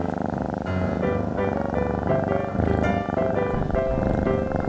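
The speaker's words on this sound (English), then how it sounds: "This cat is purring." A cat in a cat cafe purring steadily and close by, a continuous low rumbling hum with no voices.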